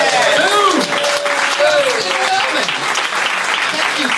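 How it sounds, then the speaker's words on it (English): A comedy club audience breaks into loud, sustained applause after the finale of a magic trick, with a voice calling out over the clapping. "Fling open the napkin and receive your well-deserved applause."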